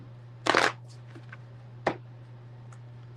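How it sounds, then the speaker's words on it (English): A deck of cards is riffled in a quick burst, followed by a couple of soft clicks and a short flick, over a low steady hum. "Let me get a quick shuffle."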